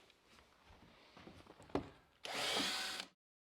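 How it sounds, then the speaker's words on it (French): A power drill bores a 12 mm hole into a hollow brick wall in one loud, steady burst of about a second. It comes after quieter handling noises and a single sharp knock. "Je vais commencer par percer en 12."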